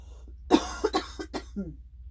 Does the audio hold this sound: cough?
yes